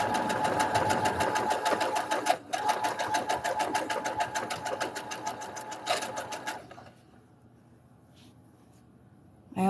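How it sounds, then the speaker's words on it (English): A sewing machine runs in fast rapid stitching bursts, loud and close, with one short hitch partway, then stops and leaves near silence before a faint new sound at the very end; no one speaks. "I also could have this sewing machine in a little bit better place"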